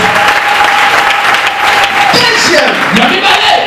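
A church congregation applauds during a Sunday sermon, a loud, dense, sustained wash of clapping from a large crowd, with voices calling out over it.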